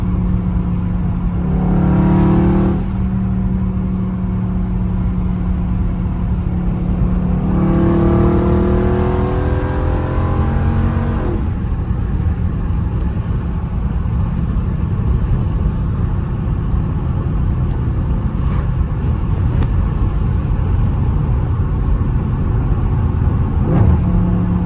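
A loud Dodge Scat Pack car engine revs hard while driving, with rising and falling pitch sweeps in the first ten seconds and a steady deep rumble and road drone afterward.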